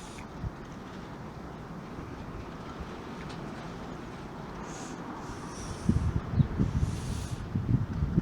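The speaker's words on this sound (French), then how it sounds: "Vous voyez bien la force du vent, les arbres bougent bien" Strong south-southwest to westerly wind storm at Loudéac with trees tossing, roaring as a steady broadband rush that swells into louder, rougher gusts near the end.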